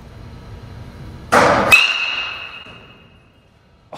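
A Marucci Cat X one-piece alloy bat strikes a baseball once with a sharp, loud metallic crack, followed by a bright ringing ping that fades over about two seconds in an otherwise quiet space.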